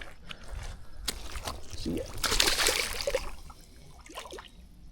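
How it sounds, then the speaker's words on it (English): A small channel catfish is dropped back into the water from the bank, a close splash and trickle in the middle, with a brief spoken word outdoors. "Get him back in the water."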